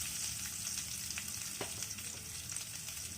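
Curry leaves, green chili and ginger sizzle and crackle steadily in hot oil while Batata Vada Pav is being made, with a few sharper pops over the constant frying hiss and no talking.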